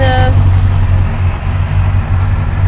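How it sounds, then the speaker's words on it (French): A Honda CB650R motorcycle with its stock exhaust idles steadily with a low, even rumble throughout; a brief tonal chime sounds at the very start. "on a le joli bruit du pot d'origine"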